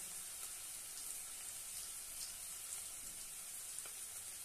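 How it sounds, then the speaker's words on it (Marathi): Coriander powder, turmeric, red chili powder and salt sauté in oil for split mung dal, making a steady, soft, continuous sizzle throughout. "छानपैकी तेलामध्ये परतून घेऊया"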